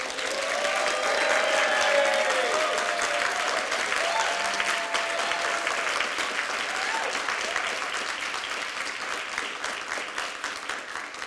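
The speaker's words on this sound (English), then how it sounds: "I think Nell deserves applause." An audience at an impact accelerator summit applauds steadily throughout, strongest early and easing slightly toward the end, with faint voices beneath the clapping.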